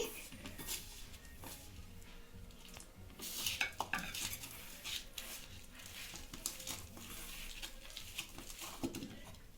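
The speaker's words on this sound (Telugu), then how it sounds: "అది మంచిగా కలుపుతూ మిక్స్ చేసుకోవాలి." Bonda batter is mixed with curd in a bowl, with a spoon scraping and clinking against the sides in quick, uneven strokes, quiet and close.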